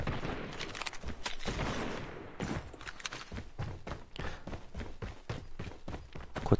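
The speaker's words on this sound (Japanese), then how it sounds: "足音がある。" Footsteps in Call of Duty Mobile tread in a steady, quick rhythm of soft thuds over a busy mix of distant gunfire and game noise, growing more regular toward the end.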